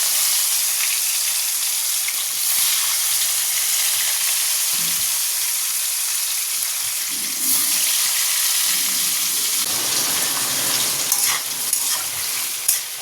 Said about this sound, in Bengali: এই দেখো, কুদরি ভাজা হচ্ছে, এদিকে মাছ ভাজা অনেকটা হয়েও গেছে।